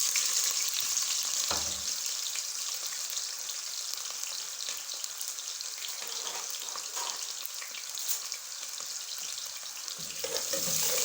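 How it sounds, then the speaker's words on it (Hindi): Onions frying in about a cup of hot cooking oil for a potato and pea pulao, a continuous crackling sizzle heard up close, with occasional stirring clatter and no talk. "अब इसमें हम प्याज डालेंगे।"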